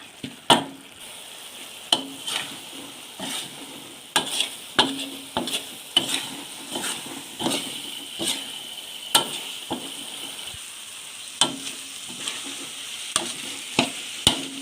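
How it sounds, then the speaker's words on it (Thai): A spatula scrapes and knocks repeatedly against a pan as a sticky filling of shredded chicken and roasted chili paste is stir-fried, the irregular clacks sitting over a soft, steady sizzle. "ก็ผัดไปเรื่อยๆนะคะ ผัดจน กว่าเราจะปั้นได้"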